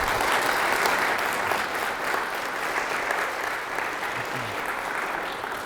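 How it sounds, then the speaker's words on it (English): A conference audience at a cyber range talk gives a sustained round of applause, a dense, even patter of many hands clapping that fades slightly toward the end, with no talk. "please give a round of applause to Christopher"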